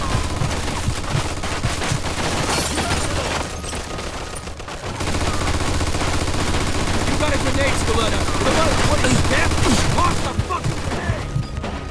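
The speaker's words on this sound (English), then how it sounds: "Looks like we found a machine gun!" Machine gun fire in Mafia 2, rapid bursts of close automatic shots mixed with other gunfire in a dense, loud, continuous battle with a short lull partway through.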